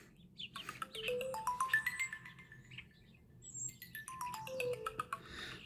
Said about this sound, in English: I just got a phone call right in the middle of that.